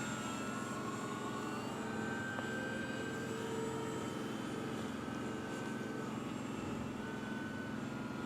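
Dynam PT-17 radio-controlled model biplane in flight, its electric motor giving a steady, moderately loud drone that holds evenly throughout with no voices over it.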